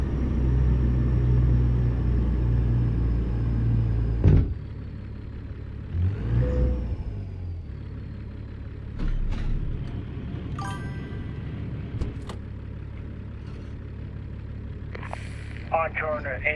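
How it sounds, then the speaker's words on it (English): A heavy truck engine in American Truck Simulator drones at low volume, a deep steady rumble that drops away partway through, followed by scattered clicks and bursts, with a person talking over it. "I turned the engine sound down because it's so loud."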